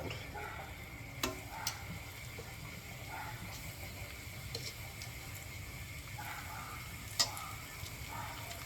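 Olive oil sizzles and crackles steadily in a pan, a soft continuous hiss with occasional small pops.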